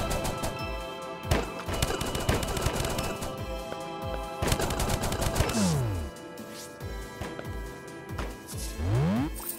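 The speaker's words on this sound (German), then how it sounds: "nehmen wir die Gnomenwaffe, weil ich will hören, wie sie singen" Gunfire from a singing gnome weapon in the game Starbound, a dense run of rapid shots layered over a busy musical backdrop, with chirpy rising and falling tones breaking through near the end.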